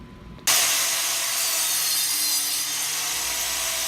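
Sawing a wooden bottom piece to size for a small Pokemon box: a loud, steady, rough rasping cut starts abruptly after a half second and continues close up without a break.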